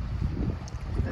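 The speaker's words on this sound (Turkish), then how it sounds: "felaket bir rüzgar çıktı" Strong gusting wind buffets the microphone at a bay near Marmaris, a rough, low rumbling roar with uneven gusts.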